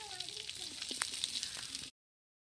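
Chopped onions sautéing in hot oil for a peanut gravy, a steady close sizzle with small crackles and pops that runs for under two seconds before cutting to silence.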